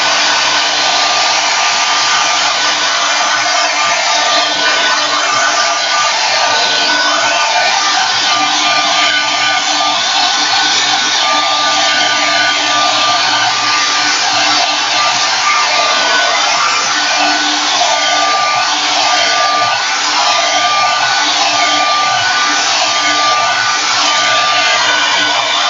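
A hair dryer blows continuously at close range over marker art on Yupo paper, a loud steady whooshing roar with a faint whine that holds unchanged throughout, with no voices.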